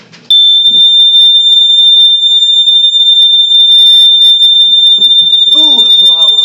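A household smoke alarm being tested sounds a loud, continuous piercing tone near the microphone for most of the clip, while a person talks briefly partway through and again near the end.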